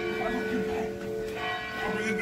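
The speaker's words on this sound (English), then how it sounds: "He's like, I'm not too sure about those church bells." Church bells ring steadily at midday, a sustained layered tolling with lingering overtones, moderately loud and continuous, with some background movement and faint voices mixed in.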